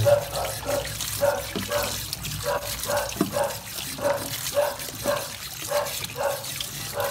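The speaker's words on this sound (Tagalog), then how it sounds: "Ito po ay pangatlong banlaw na." Eggs rinsed a third time in water, with rhythmic sloshing and splashing in a basin repeating about every half second, close and moderately loud.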